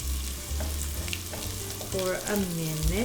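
Shrimp sizzles and gets stirred in a hot pan with ginger, steady frying crackle with spatula scrapes, while a voice speaks briefly.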